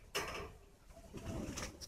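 A captive bird coos softly while being held in the hand, a few close, low calls with light rustling and handling noise.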